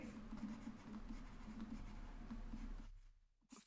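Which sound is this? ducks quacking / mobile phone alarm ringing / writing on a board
writing on a board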